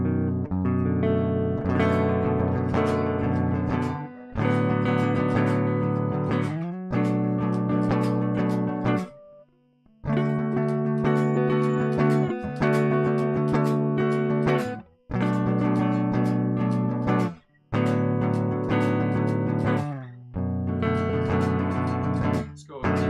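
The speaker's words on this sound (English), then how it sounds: "Let's get right into the bottom four string chords right here." Guitar strumming chords on the bottom four strings, loud and close, in rhythmic bursts with short gaps between phrases and no talking.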